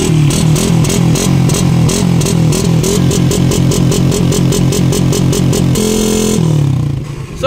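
A Raider 150 Fi motorcycle on its stock ECU, fitted with a Reborn canister exhaust, chugs at a loud, rapid, pulsing idle, then the throttle is blipped into a brief, louder rev before the engine drops back and fades.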